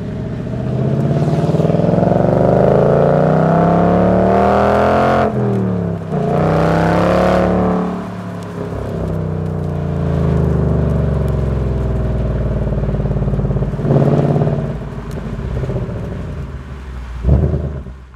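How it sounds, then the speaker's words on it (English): Car exhaust heard from outside as the engine revs up and down, loud rising and falling sweeps repeated several times over about eighteen seconds, close by with no talk. "the sound will come from the outside directly from the exhaust"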